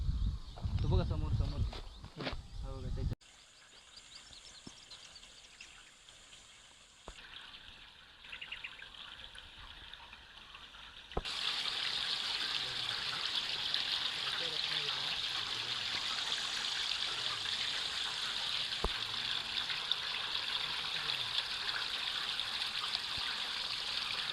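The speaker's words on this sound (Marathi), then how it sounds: "तो रॉड दिसतोय त्याच्या थोडं खाली येतं पाणी" Water leaking from the Sakharpa dam in Ratnagiri and flowing out below it, a steady rushing wash that becomes loud and continuous halfway through, after a stretch of talk and a quieter outdoor lull with faint birds.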